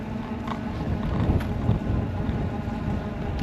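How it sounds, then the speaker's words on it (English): Blustery wind buffets the microphone outdoors on a cold morning, a steady low rumbling roar with gusty swells, close and fairly loud, no voices. "It's a little bit blustery out this morning. It's about 40 degrees, but the winds are kicking up."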